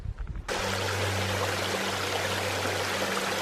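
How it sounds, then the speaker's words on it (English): A mountain brook rushes steadily through an aspen grove, its continuous broadband flow starting abruptly after a brief quieter moment and holding loud and close throughout. "It's a little bit of a brook coming down from the mountains. I just heard water."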